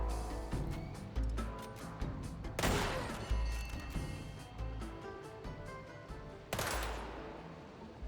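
Gunfire in the video game SteamWorld Heist II: several sharp shots crack out at uneven intervals, with the loudest bursts near the middle and end, over a steady tonal game soundtrack.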